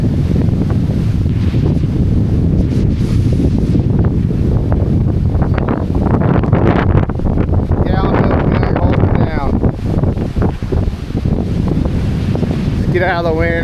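Strong wind buffets the microphone outdoors at a ham radio antenna setup, a loud steady roar with gusts throughout, while a person talks briefly over it near the end.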